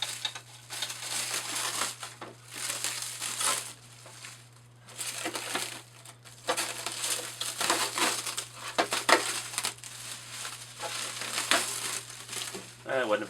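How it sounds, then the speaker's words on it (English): Plastic and paper packaging crinkles and crushes as a CENracing F250 Super Duty scale RC truck is unwrapped, in close crackling bursts with a voice talking at times. "So, let's get this thing unwrapped."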